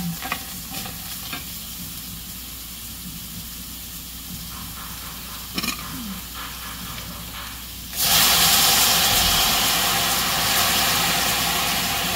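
Black pepper and garlic fry in a hot pan with a low steady crackle and stirring, then burst into a loud, bright sizzle as they hit the oil at around eight seconds, hissing strongly to the end.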